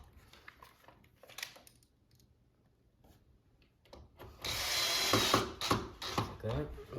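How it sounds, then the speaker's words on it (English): Pocket screws go into the corner of a wooden farmhouse shoe bench, with faint handling clicks followed by a loud burst of power-driver whirring and ratcheting, then short stop-start bursts. "we'll just install the pocket screws"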